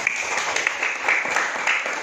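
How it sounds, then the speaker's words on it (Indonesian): Clapping in a classroom during a physics lesson on parallel circuits, a steady patter of many hands sustained for a couple of seconds at moderate loudness. "bagus sekali, tepuk tangan"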